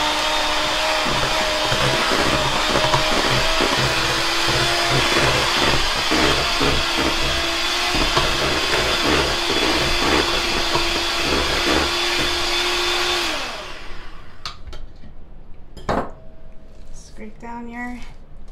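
Electric hand mixer whirring steadily through blueberry cheesecake batter, a loud continuous motor drone with slight pitch wobble for about thirteen seconds before cutting off, followed by quieter kitchen clatter.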